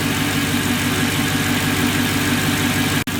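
Car engine idling after an intake manifold repair, a steady, smooth rumbling pulse heard up close with no audible miss, briefly cut off near the end, with no one talking.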